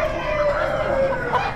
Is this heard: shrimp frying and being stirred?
no